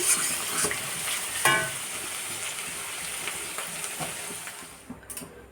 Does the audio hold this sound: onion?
yes